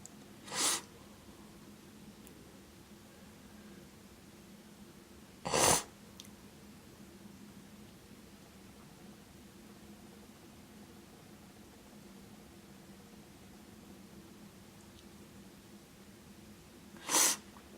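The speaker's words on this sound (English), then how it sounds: "I'm sick, so I'm sniffing" Three short, sharp nasal sniffs from someone with a cold, spaced far apart across a quiet indoor background, loud and close with near silence between them.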